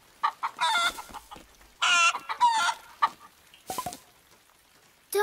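Hens cluck in loud, bursting calls with short pauses between, close by and lively, with no voices present.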